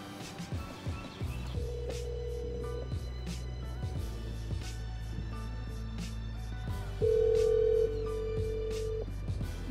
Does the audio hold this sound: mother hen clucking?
no